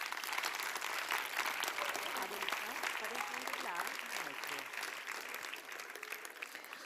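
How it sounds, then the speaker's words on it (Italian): Audience applause for a guest at an aerospace science event in Milan, steady and fairly distant, with a voice speaking over it in the middle and the clapping continuing throughout. "Un applauso."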